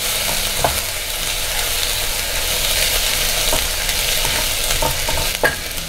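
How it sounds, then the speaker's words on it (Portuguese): Three cloves of garlic fry in hot oil in a pan, giving a steady close sizzle throughout with a few light clicks of stirring. "Vou fritar aqui o alho, tem 3 dentes de alho."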